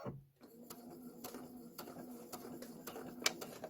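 A sewing machine stitches forward on a chambray tote blank, giving a quiet, steady mechanical whir marked by regular light clicks after a brief start, with no speech.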